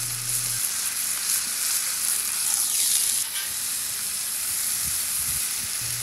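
Smash burger patties sizzling loudly on a hot griddle right after being flipped, a steady close frying hiss with a few scraping touches and no talk.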